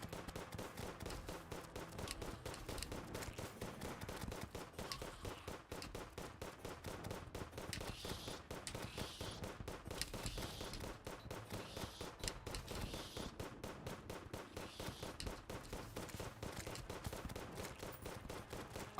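Phoenix Blaster firing in Terraria during a boss fight, a long stream of quick, evenly spaced shots repeating at a steady fast rhythm, fairly faint and unbroken for the whole stretch.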